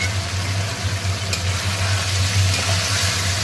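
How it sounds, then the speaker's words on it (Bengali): Mutton pieces fry and brown in a pan for kosha mangsho, with a continuous close sizzle over a low steady hum from a burner or fan, and no talking. "আমি আগে একটু ভালো করে মাংসটাকে একটু কষিয়ে নিই।"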